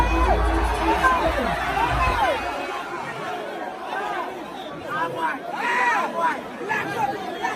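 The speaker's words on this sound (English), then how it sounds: "GCTU team, make some fucking noise right now." Concert crowd at a GCTU artiste night roaring and cheering, loud dense shouting and whooping with a heavy low rumble at first, then waves of excited voices and yells rising and falling.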